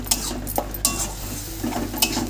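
Ground banana stem with green chilli and coriander being stir-fried in a pan: a utensil scrapes and clatters against the metal in several sharp strokes over a soft, continuous sizzle.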